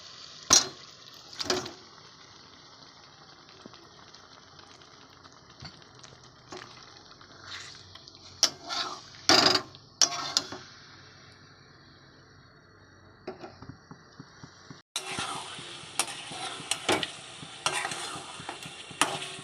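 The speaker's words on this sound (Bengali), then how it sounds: "এবার আমরা মাংসটা দিয়ে দেবো, মাংস দিয়ে কষবো।" Mutton pieces fry in hot oil with a persistent crackling sizzle, stirred by a utensil that scrapes and clinks against the pan in repeated bursts. The sizzle surges louder toward the end, and no one speaks.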